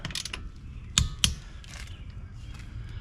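Clicks from a torque wrench set to 100 foot-pounds on a car, two sharp close clicks a quarter second apart over faint mechanical creaking and low rumble.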